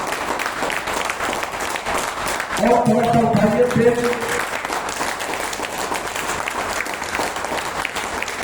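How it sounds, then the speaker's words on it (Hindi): Audience applause fills a hall, steady and broad, with someone speaking over it partway through. "एक बार सब लोग अपने लिए जोरदार ताली बजाइए"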